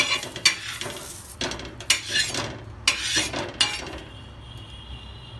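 Onions roasting and being stirred in a pan with leftover masala, a spoon scraping in a few distinct strokes over a soft sizzle, close and clear with no talk.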